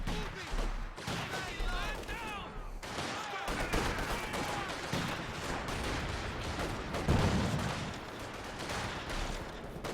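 Company of Heroes 2 combat: a grenade blast amid rattling gunfire and machine-gun bursts, steady and loud, with a voice talking over the fighting.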